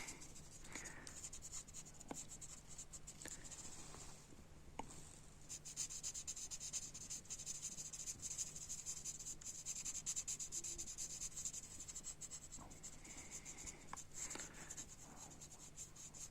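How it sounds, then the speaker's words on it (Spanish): Pencil stroking and shading on paper while drawing a bonsai: a soft, continuous scratchy rubbing with quick back-and-forth strokes, faint and close, with no voices. "Podrían ir observando la forma en la que voy moviendo el lápiz"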